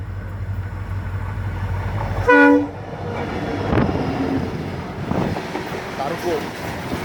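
The Bangalore Express passenger train passes close by and gives one short, loud horn blast, with a steady rumble of rolling wagons and wind noise before and after it.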